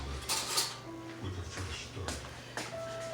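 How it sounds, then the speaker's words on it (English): A spoon and kitchen utensils clatter and clink against dishes near an opened can while gravy is prepared for smothered turkey wings, scattered handling sounds over a low room hum. "Let me get a spoon."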